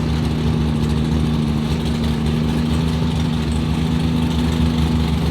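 A 1945 Chevrolet truck with a compound-turbocharged Cummins diesel idles, giving a steady, fairly quiet and muffled low rumble with a constant hum that holds for the whole stretch, with no voices.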